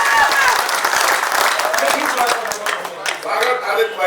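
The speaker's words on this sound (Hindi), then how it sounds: "तालियां कमजोर है, जरा दोनों हाथ उठा के गड़गड़ाना कर दीजिए तालियों के बाद" Audience applause at a Hindi comic poetry (kavi sammelan) stage event, a dense crackle of many hands that stays loud and steady throughout, with a voice and crowd noise mixed in beneath it.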